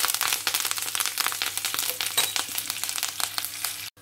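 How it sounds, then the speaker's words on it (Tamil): Urad dal and curry leaves frying in hot oil for a Tamil carrot sundal, a dense, steady crackle and sizzle with sharp pops running throughout before cutting off abruptly near the end. "இப்போ நான் உளுந்த சேர்க்குறேன். உளுந்து பொரிய துவங்கிட்டது."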